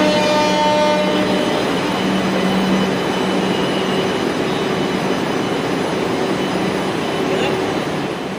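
A Kolkata Metro Purple Line train between Esplanade and Joka, nearly empty, runs with a loud continuous rumble and rail roar, steady tonal whine and faint clatter, heard from inside the carriage with a voice talking over it.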